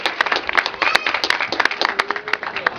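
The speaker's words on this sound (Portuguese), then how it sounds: "Você pode aplaudir ao Senhor esta noite" A church congregation claps during an evening worship service, with dense, uneven hand claps filling the space and voices mingling underneath.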